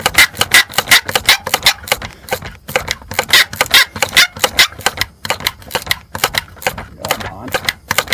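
Rapid, repeated ratcheting clicks and scraping of a hand wrench loosening a rusted bolt on a Ford, close and loud in uneven bursts.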